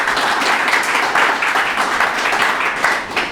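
A church congregation clapping enthusiastically during an Urdu worship service, a close, steady burst of many hands for a few seconds.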